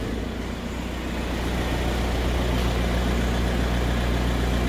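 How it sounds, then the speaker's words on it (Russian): A Volkswagen Sharan engine runs steadily in first gear with the wheels turning, a low, even hum and drone recorded up close with no speech. "Вот, в принципе, запущен двигатель, включена первая передача"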